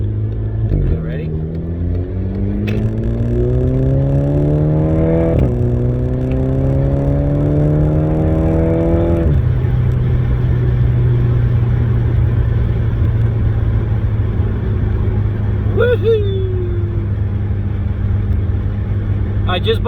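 A VW GTI MkV turbo car accelerates hard in Tiptronic mode, its engine note climbing through several rising gear pulls with distinct shift breaks, then settling into a steady loud cruise drone.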